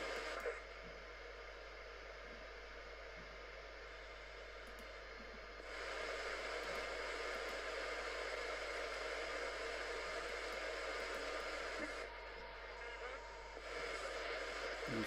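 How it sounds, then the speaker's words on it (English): A Mac-based radio scanner tuned to London iBus station transmissions gives a steady hiss of static and noisy data bursts, with the tone shifting partway through, and no voices. "These are the London iBus, and you'll see all these should be stations transmitting."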